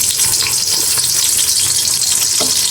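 Onions dropped into hot oil in a home kitchen, sizzling and crackling loudly and steadily throughout, with a brief clatter near the end and no voices.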